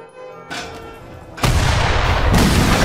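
Cannon fire from an Age of Empires 3 battle: a loud booming blast lands suddenly and rolls into sustained heavy rumble, with a further burst stacking on top, close and dense with no talking.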